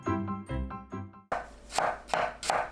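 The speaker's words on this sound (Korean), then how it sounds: "양파를 채 썰어 주세요." A knife slices an onion into thin strips on a cutting board, a few crisp separate cuts after a short musical tone.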